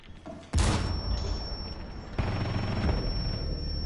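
Frag grenade detonating in Rainbow Six Siege: a sharp, loud blast lands abruptly, followed by a second heavy burst and sustained rumbling debris noise, with a steady high ringing tone running underneath.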